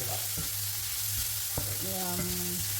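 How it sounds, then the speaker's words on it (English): Garlic for honey garlic pork chops frying in a pan, giving a loud continuous sizzle with a few stirring clinks and scrapes, close and steady throughout. "So now I'm just going to cook this garlic for a few minutes."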